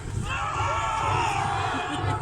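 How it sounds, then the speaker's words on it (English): Reenactors in a battle at Kenilworth Castle cheer and shout together as a dense, sustained crowd roar with mixed voices, steady and fairly loud across the whole moment. "But they're cheering, ladies and gentlemen."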